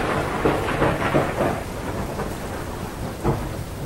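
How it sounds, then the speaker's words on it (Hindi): Heavy rain pours down during a thunderstorm, a dense, loud hiss of downpour broken by deep rumbling thunder rolls that swell and fade several times. "बिजली चमक रही थी। बहुत जोरों की बारिश हो रही थी।"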